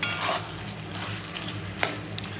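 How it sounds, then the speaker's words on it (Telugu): Chicken fry coated in garlic chili powder is stirred in a pan, giving a low steady sizzle with a couple of brief scraping clinks from the spoon, close up and without speech. "ఈ వెల్లుల్లి కారం వేసుకొని ఇది ఒకసారి మంచిగా కలిపేసుకొని"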